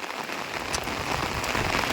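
Heavy rain from Cyclone Michaung pours steadily onto paddy fields, a dense, even hiss of drops with no break and no voices.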